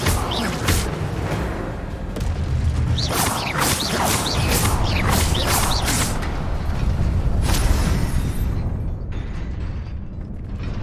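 Levioso levitation spell cast in Hogwarts Legacy, a loud sustained magical whoosh layered with creaking, ratcheting mechanical clatter and shimmering chimes that fades out at the end.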